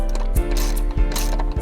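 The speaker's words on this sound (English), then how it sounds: "make sure that you always at least go counterclockwise once until you hear a click when you're rescrewing the bolt back on" Ratchet turning a bolt during a car audio box install in a 2019 Ford Flex SEL, rapid metallic clicking in a steady rhythm with a few heavier clunks, close and alone.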